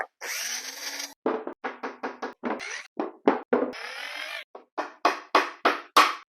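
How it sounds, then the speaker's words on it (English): A power drill drives number 8, 1.5-inch screws through stacked 3/4-inch wooden boards for an aquarium stand, in a series of short close whirring bursts with a few longer runs, each cutting off sharply, with no talk. "I'm going to do my center board now and get 2 temporary screws in there."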